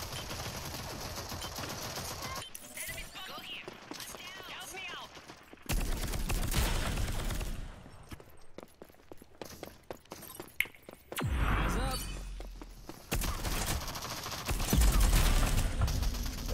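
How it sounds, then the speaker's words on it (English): Two enemies open fire in a shooter game, sending repeated bursts of rapid gunshots in uneven volleys that come and go, with a voice talking in between. "Two people shooting at me."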